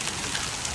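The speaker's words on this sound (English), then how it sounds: "The same storm pelting Arlington with hail and heavy rain." Heavy storm rain with hail pelting surfaces in Arlington, Texas, a dense, loud, continuous hiss and patter with no talk over it.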